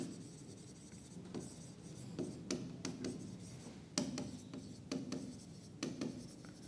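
Pen writing out an accounting journal entry on paper, a steady scratchy scribble with repeated short strokes, fairly quiet and close, with no talking over it.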